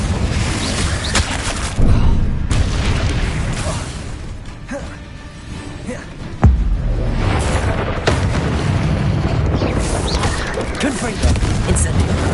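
A Confringo explosion spell in Hogwarts Legacy blasts with heavy booms and crashing bursts amid dense game noise. A sharp impact lands near the middle, and the rumble stays loud throughout.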